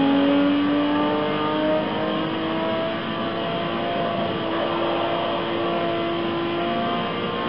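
A Nissan Skyline R34 GT-R V-Spec II runs with a steady, droning engine note at moderate volume, heard alone without voices.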